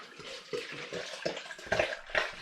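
Tap water runs into a bottle while a flavoured liqueur is being made, a steady splashing flow that swells in bursts, with brief talk mixed in.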